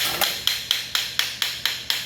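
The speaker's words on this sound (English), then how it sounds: "by hammering it there with the rubber mallet, it helped the O-ring come out" A rubber mallet strikes a Flygt pump during a teardown to loosen a stuck O-ring, landing nine evenly spaced, close, dull knocks in a steady rhythm with nothing else heard.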